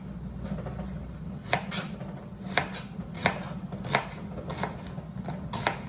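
A knife slices onions on a cutting board for bread and butter pickles, the crisp cuts landing close and irregularly over a low steady hum, with no talking.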